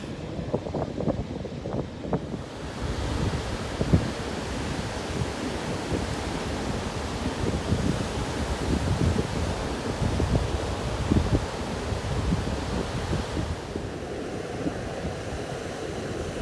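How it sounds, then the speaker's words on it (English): Strong wind gusts by the sea on a blustery day, a steady roaring rush buffeting the microphone with low rumbling bursts and broadband surf-like noise throughout, no one talking. "Hopefully you can hear this. It's really windy."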